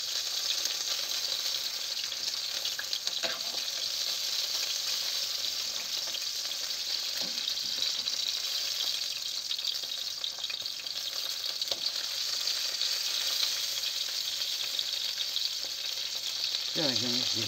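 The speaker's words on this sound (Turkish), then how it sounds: "Onları da şöyle bir ateşten kızartıyorum." Peppers fry in a pan over an open fire, giving a steady hiss and sizzle with faint crackles and a few soft clatters near the end, and no one speaking.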